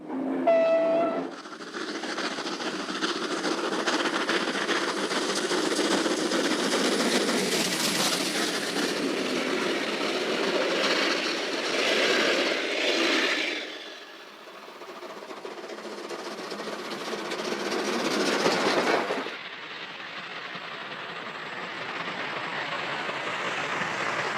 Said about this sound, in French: ces locomotives de légende ne remorquèrent que les trains de Lille et Bruxelles